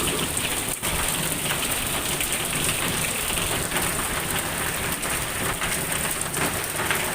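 Heavy rain pouring down outdoors in a steady, loud, dense hiss that fills the scene with no pauses and no voices.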